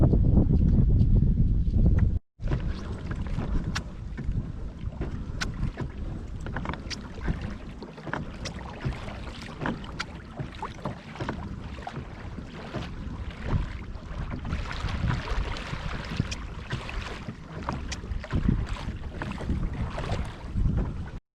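Kayak paddling on a lake in wind, with strong wind buffeting the microphone early on, then steady splashing paddle strokes and water sloshing close by for the rest.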